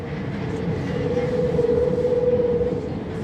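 Steady rumble and hum inside a Paris metro carriage in motion, with a constant mid-pitched whine from the train and dense low-frequency wheel noise throughout, loud and continuous.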